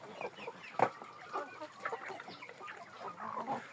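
Jersey Giant and Livenskaya chickens and roosters cluck and chatter nearby in short, scattered bursts, with one sharper squawk early on and steady farmyard murmuring throughout.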